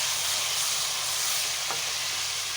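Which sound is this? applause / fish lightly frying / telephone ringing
fish lightly frying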